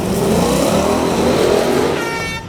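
A drag racing car with a $6000 or $1800 suspension setup accelerates hard down the strip, its engine a loud, sustained roar that climbs in pitch, close by, with no talk.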